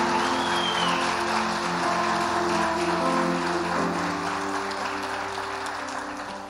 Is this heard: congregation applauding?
yes